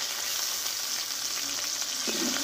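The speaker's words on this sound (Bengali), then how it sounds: "এই মশলাটা ভালোভাবে আমি কষে নেব।" Ground spice masala sautéing in hot oil in a pan for a vegetarian Bengali dish, a close, steady sizzling hiss with light stirring scrapes throughout and no voices.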